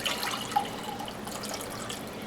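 Cooking juices and broth poured into a measuring cup, a steady close liquid stream splashing and trickling without pause, with no voices.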